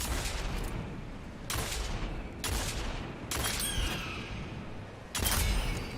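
Gunfire in the video game Destiny 2 Lightfall: four loud, separated bursts of shots, each ringing out into a decaying tail over a steady background hum, with no talk.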